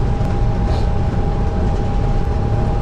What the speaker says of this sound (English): You are riding aboard the Park Center, the latest generation of Disneyland monorails.